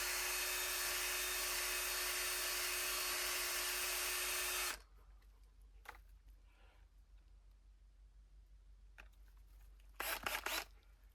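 A loud, steady power drill whines for several seconds boring into a birch tree, then cuts off, leaving quiet rustling and a few brief scraping sounds.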